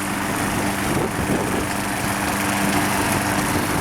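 A Craftsman 6.75hp lawnmower runs steadily while mowing a suburban lawn, a constant close engine drone with no pauses.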